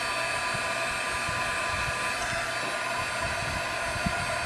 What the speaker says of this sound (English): I'm going to just touch each one a little bit with my embossing gun.